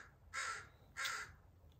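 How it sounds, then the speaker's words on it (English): Crows outside an open door give two loud, drawn-out caws about half a second apart, with a quiet background between the calls. "Some crows are saying, yeah, go ahead and share."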